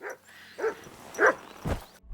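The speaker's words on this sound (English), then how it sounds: "is that my dog barking back there?" A dog barks in the video game Kingdom Come: Deliverance II, about four separate barks in an uneven rhythm, moderately close and clear against a quiet background.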